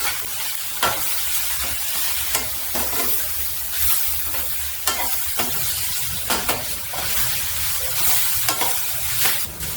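Carrots sautéing with salt in a pan for a quick carrot chutney, a steady loud sizzle broken by repeated sharp stirring scrapes at an irregular rhythm, close up with no talking.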